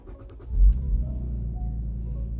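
A car engine cranks and fires up with a brief loud surge, then settles into a steady low idle rumble, close by and with no talking.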